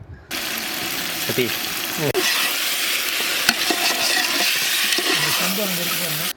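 Yogurt-marinated country chicken for biryani sizzles loudly in a hot pan, with continuous frying hiss and repeated scraping of a spoon as it is stirred, while a person talks over the cooking.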